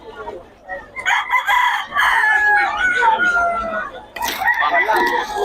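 A young gamecock (stag) offered by a seller at the Bocaue market crows loudly and close by, a drawn-out cock-a-doodle-doo with a second burst near the end, with voices around it.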